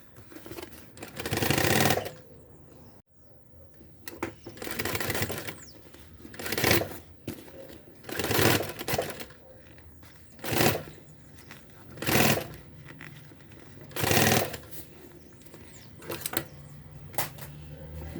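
A sewing machine stitches a Paris-style bag in a series of rapid bursts, roughly seven or eight runs of a second or so each separated by pauses with quiet handling of the fabric, close and clear.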